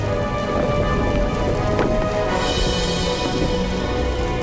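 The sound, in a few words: burning hail of superheated rocks falling, documentary effect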